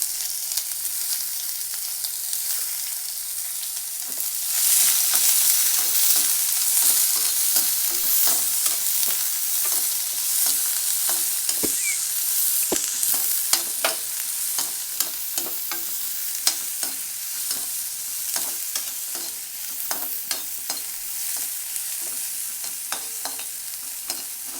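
Onions and dried red chillies fry with urad dal in a pan, a steady close sizzle with repeated scraping clicks of a spoon stirring, continuing without speech throughout.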